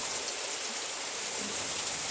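A small waterfall spills water out beside a rock, making a steady, even rush of flowing water at moderate distance with no voices.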